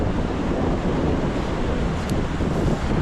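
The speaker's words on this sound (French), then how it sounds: "Le vent s'est levé" Strong, steady wind buffets the microphone with a constant roar that never lets up.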